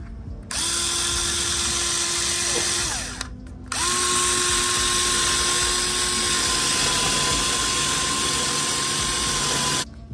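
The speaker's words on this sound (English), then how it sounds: "you're gonna wanna apply pressure up so that the self-tapper goes through" A power drill drives a self-tapping screw into a rear Ikon Motorsport spat on a second-generation Scion tC, a loud close whine that runs, pauses briefly, then resumes steadily until stopping.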